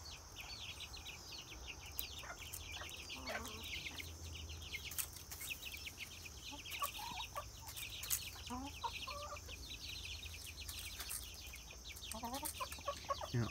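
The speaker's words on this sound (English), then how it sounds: "Now, Autumn is thankfully, finally broken. No longer broken, meaning she's no longer broody." Backyard hens cluck and murmur in scattered bursts at moderate distance, with faint farmyard ambience throughout and no voices.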